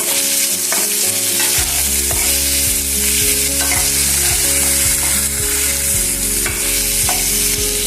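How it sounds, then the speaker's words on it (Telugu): Sliced ivy gourd fries loudly in hot oil for a roti pachadi chutney, a dense close sizzle broken by regular rhythmic stirring scrapes, with no voices. "రేకుల్ని ఆయిల్లో వేసి కొంచెం దోరగా వేయించుకోవాలి"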